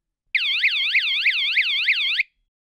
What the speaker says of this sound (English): the alarm will sound a warning for 2 seconds.